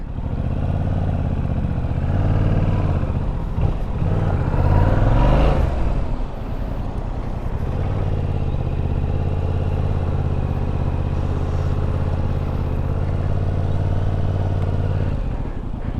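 A new track motorcycle on fresh tires drones steadily as it leans through turns, with a brief clattering surge near the middle before the engine settles back into a smooth, continuous hum.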